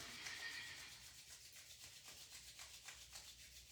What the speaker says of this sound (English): bring your hands to your heart space, rub them together